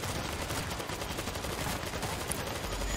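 A rapid burst of automatic gunfire from an auto turret in the video game World War Z, steady crackling shots running unbroken for several seconds at moderate volume.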